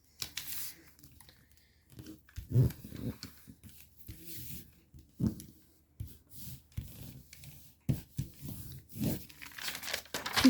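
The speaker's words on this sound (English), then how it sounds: "You're going to want to fold the diagonals first of all." Foil paper is creased and folded along its diagonals to shape a paper plane, producing a run of crinkling, rustling and sharp crackling bursts up close, spaced by short pauses.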